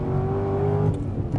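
A sports car at full throttle in third gear through a corner, its engine giving a loud, sustained rising drone heard from close by for a brief stretch.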